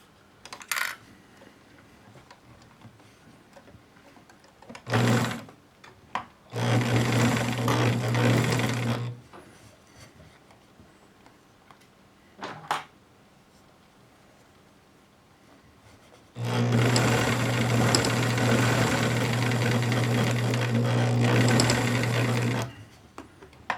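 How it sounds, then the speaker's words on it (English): A Bernina Record 830 sewing machine stitches a zippered pouch, running in two long bursts of steady mechanical whirring separated by quiet pauses and a few short clicks, with no talk. "now we just need to sew this little part up to this point where my hand opening is"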